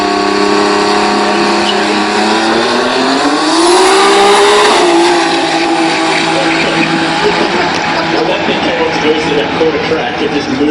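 A 2JZ twin-turbo altered drag car roars down the track at a drag racing event, loud engine pitch rising then shifting as it passes, with an announcer talking over it.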